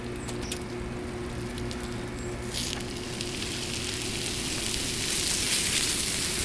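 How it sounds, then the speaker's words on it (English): Sausage sizzles on a hot Blackstone griddle, a steady dense crackle and hiss that swells louder in the second half, with no talk over it. "So we're going to start off with our sausage on the grill."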